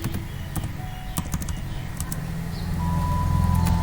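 Rapid keystrokes clatter on a computer keyboard while HTML code is being written, with quick irregular taps over a low steady background hum that grows slightly louder toward the end.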